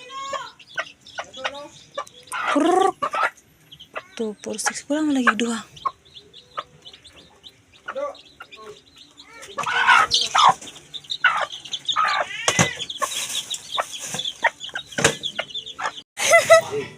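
Hens cluck in scattered bursts through the clip while a person talks in Cebuano and counts aloud nearby, with some rustling and movement.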